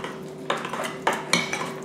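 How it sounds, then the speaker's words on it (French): A spoon stirs a honey and soy marinade with sesame seeds, pepper, ginger and salt in a bowl for skewers, giving a few quick, close clinks and scrapes against the dish. "Je vais bien le mélanger."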